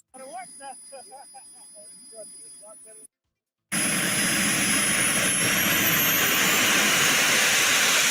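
RC model jet turbine engine throttled up, a loud, steady roaring whine with a rising high tone that holds continuously after a brief pause, following a stretch of talk.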